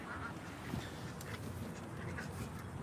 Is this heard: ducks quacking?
yes